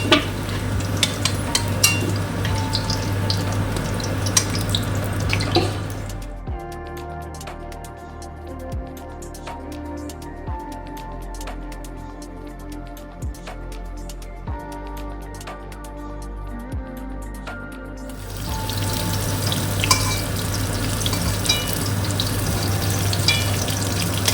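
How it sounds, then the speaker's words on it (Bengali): Prawns with green jackfruit fry in a pan, giving a steady loud sizzle throughout. A quieter stretch in the middle carries scattered stirring clicks against the pan before the full sizzling returns. "একটু ভেজে নিচ্ছি"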